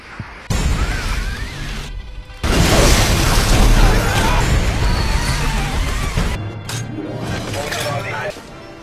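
An action film shootout with gunfire and explosions: loud crashing booms and sustained chaotic blasts, broken by brief quieter gaps, with speech mixed in.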